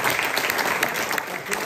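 Applause from an audience at an evening event, a steady, dense burst of many hands clapping at close range, continuing evenly for the whole stretch.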